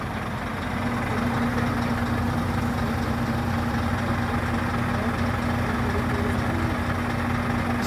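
A driverless Scania truck engine runs at a steady idle, a constant low hum with a droning tone that holds unchanged throughout, fairly close and with no talking.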